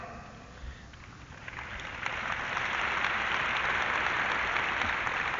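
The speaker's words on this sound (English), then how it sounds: "Well, you clapping now" A university crowd at a 1968 Dick Gregory talk at UCLA breaks into clapping, starting faint and scattered, then swelling after a couple of seconds into full, sustained applause from a large audience.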